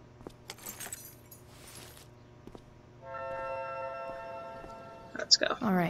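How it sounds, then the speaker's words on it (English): A ring of keys picked up and jangled in Life Is Strange: Before the Storm, a bright metallic rattle arriving near the end after quieter game ambience and a sustained tonal hum. "Okay, so let's grab the keys."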